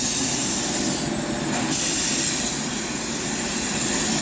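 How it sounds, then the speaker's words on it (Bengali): A passenger train pulls in alongside a station platform, a steady loud rumble of wheels and engine with a high whine overhead, continuous throughout with no talk. "তো দেখো আমার ট্রেন ঢুকে গেছে"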